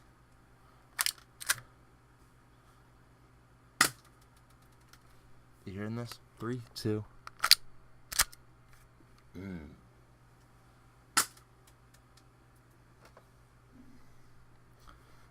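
A BB gun fires several sharp, dry clicks and snaps, spaced irregularly and close to the microphone, while a person speaks in the gaps in an otherwise quiet room.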